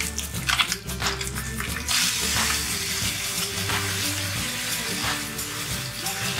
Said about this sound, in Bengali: এবার যে মশলার পেস্টটা আমরা বানিয়েছিলাম সেটা এই তেলের মধ্যেই দিয়ে একটু কষিয়ে নেব।